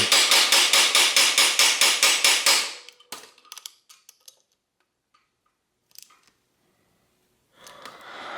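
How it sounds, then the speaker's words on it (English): A rapid, even series of about a dozen loud metallic hammer blows driving a pin into the bottom bracket of a vintage Peugeot bicycle, followed by a few faint clinks and quiet shuffling. "when you hammer the pin, that the nut doesn't become loose again"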